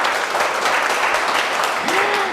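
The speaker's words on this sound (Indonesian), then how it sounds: "Yang kuat sekali lagi tepuk tangannya." An audience at a talk on effective communication claps loudly and steadily, a dense wash of applause with a voice briefly rising over it near the end.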